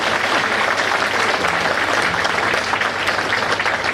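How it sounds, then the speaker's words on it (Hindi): A crowd at a talk given by R S Goswami claps loudly and continuously, a thick wash of many hands that stays level from start to finish with no speech on top. "जोर से ताली बजाओ के लिए।"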